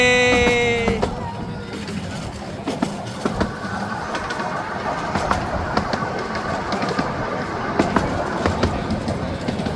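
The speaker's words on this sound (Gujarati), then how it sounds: "તો મિત્રો અમારી ટ્રેન ચાલુ થઈ ગઈ છે." A miniature passenger train at Ruislip Lido starts moving, with a brief whistle-like tone at the start, then a steady low rumble with faint rhythmic clicks and people talking nearby.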